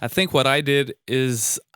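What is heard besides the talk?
None of the usual background noises is heard.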